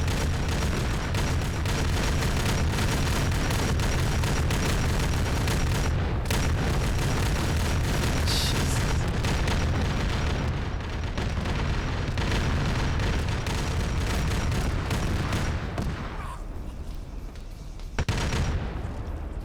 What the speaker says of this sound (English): Grenade just got thrown out there.